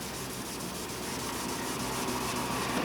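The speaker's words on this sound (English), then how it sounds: "I'm keeping this block really flat when I'm sanding so I'm not all over the place" A sanding block is rubbed by hand across clear-coated truck molding, giving a steady, faint scratchy hiss of continuous back-and-forth strokes with no talking.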